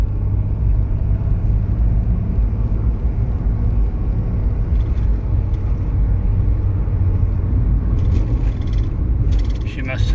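A 1987 Mercedes 300D diesel driving and shifting through its gears, a loud steady low engine rumble and drone from inside the car with someone talking over it.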